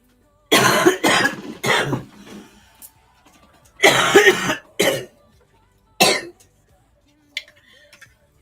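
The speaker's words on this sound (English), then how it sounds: "Sorry, I got a bit of a cough today." Several loud, harsh coughs come in bursts from a person close to the microphone, with short pauses and a throat-clearing sound between them in an otherwise quiet indoor room.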